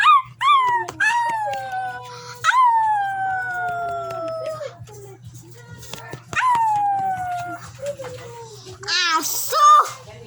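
A dog close by lets out a run of yelping barks and long, falling howls, some of them whimpering, with short pauses between them and a high squeal near the end.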